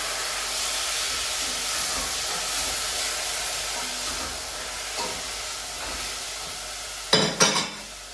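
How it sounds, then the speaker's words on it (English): Tomatoes hitting hot garlic in a pot give a loud continuous hissing sizzle, with a few clattering stir and scrape sounds near the end. "The pan seems to be a little angry, but just stir around and everything's fine."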